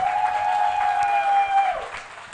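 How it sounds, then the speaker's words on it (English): Audience applause for candidates at a law society presidential and judicial service commission debate, steady and moderate across the clip under a sustained ringing tone, then fading toward the end. "Let us give them a round of applause."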